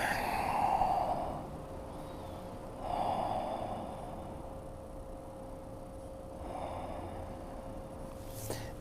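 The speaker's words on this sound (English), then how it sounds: "Take a few breaths." Slow, soft breathing while resting on the side in a quiet yoga class, with three gentle exhales spaced a few seconds apart over a low steady room hum.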